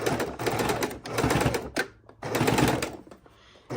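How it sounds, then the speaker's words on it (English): A sewing machine runs in fast, rattling bursts up close, stopping briefly between stretches of stitching. "let's go back over to the sewing machine, and we're just going to put it under this needle"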